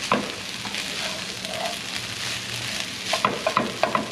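Potatoes and onions frying in a pan while being broken apart and stirred, a continuous sizzle with scraping and clacking utensil hits growing more frequent toward the end.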